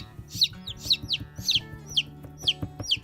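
A person imitates a mother hen clucking to newly hatched chicks, with repeated soft clucks and higher chirping calls at a steady pace over a low background hum.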